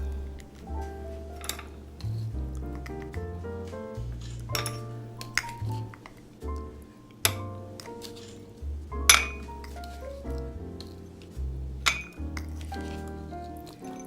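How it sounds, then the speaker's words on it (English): A spoon scoops Oreo cookie crumbs into glasses, giving repeated bright clinks and taps against the glass at irregular intervals over a low, steady background hum, close by and fairly quiet. "to put the cookie crumbs in the glass. I'll put maybe 2 teaspoons apiece in each glass."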